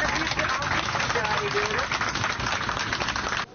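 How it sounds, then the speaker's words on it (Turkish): Dense, loud applause from a large crowd honouring rescue teams at an İzmir event, steady throughout with faint voices mixed in. "Kendilerine büyük bir alkış rica"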